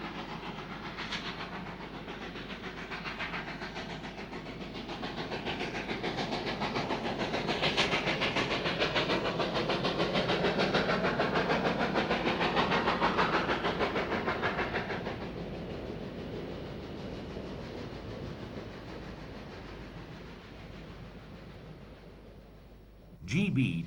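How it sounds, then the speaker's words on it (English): The GMAM 4072 Garratt steam locomotive hauls a mixed train toward Elgin over a bridge at Hohook Pass, a continuous heavy rumble and rolling clatter that swells toward the middle and then fades slowly as it passes. "GMAM 4072 grapples with a mixed train heading for Elgin over this bridge at Hohook Pass."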